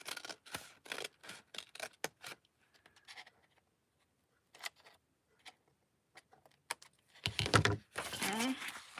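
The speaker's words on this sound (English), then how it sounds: "we'll cut right at that fold" Scissors cutting paper for a handmade journal, a quick run of crisp snips at the start, then sparse scattered cuts and a louder rustle of paper near the end, with no voices.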